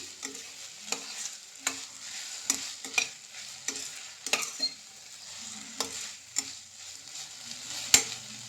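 Tomato, ginger and garlic sautéing in a pan, with a utensil scraping and stirring in repeated strokes over a soft, quiet sizzle, fairly close and with no talk.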